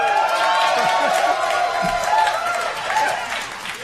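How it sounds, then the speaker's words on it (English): A crowd cheering and clapping with excited whoops, loud and close, fading a little toward the end, with voices mixed into the noise. "They're cheering that we did one thing."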